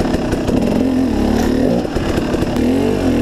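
A KTM 300 XC two-stroke dirt bike engine snarls loud and close while trail riding, its buzzing note wavering up and down with throttle changes for a few seconds without a break.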